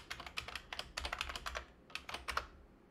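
A terminal install command being typed on a computer keyboard on an Ubuntu machine, with two quick bursts of close, crisp key clicks separated by a short pause.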